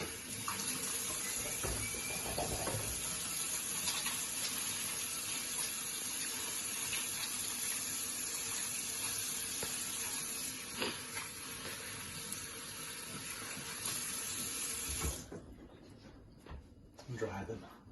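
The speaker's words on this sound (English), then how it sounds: "So I'm going to wash my hands to begin with." Hands being washed under a running kitchen tap: a steady, close stream of water with splashing and rubbing for about fifteen seconds, then the flow cuts off, leaving a few drips and handling sounds.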